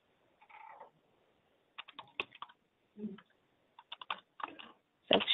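Keys clatter on a computer keyboard while someone types in a Word document, coming in scattered bursts of quick clicks separated by short pauses, close by and soft.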